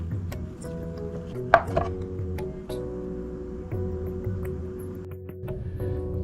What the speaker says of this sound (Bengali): আমি এই পেঁয়াজগুলোকে খুব সরু সরু করে কেটে ফেলি।